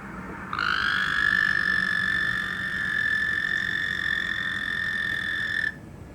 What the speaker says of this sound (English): the frog in the basement will start hollering back at this frog